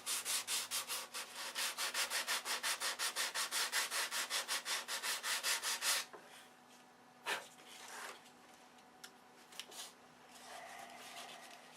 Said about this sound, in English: Sanding, sanding, sanding.